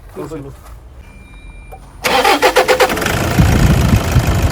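A Toyota Innova diesel engine cranks and catches, settling into a close, loud, pulsing clatter at idle; a voice talks quietly just before it starts.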